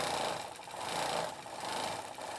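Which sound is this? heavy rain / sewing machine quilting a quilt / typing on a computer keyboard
sewing machine quilting a quilt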